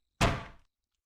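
A door struck once, a single short thud that is fairly close and fades quickly into silence.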